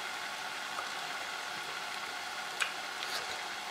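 Pommes dauphine deep-frying in a home fryer, a steady soft sizzle and bubbling hiss throughout with a small crackle pop near the end, fairly quiet and close.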